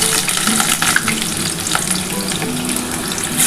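Chopped onions fry in hot oil for a chicken kosha, a loud, dense and continuous sizzling hiss heard up close with no voices over it.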